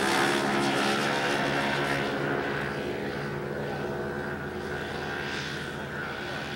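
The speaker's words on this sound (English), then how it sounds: "Get the takeoff roll." A four-stroke model airplane engine drones steadily during the takeoff roll, a loud continuous propeller buzz that eases slightly as the plane pulls away.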